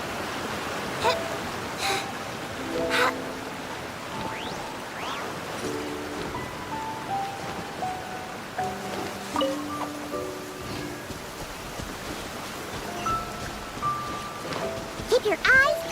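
Steady rain in the video game Genshin Impact patters throughout, with bright tonal chirps and blips scattered over it at irregular intervals.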